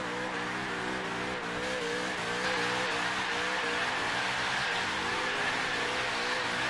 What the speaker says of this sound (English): See if we can get into gear without stopping this burnout.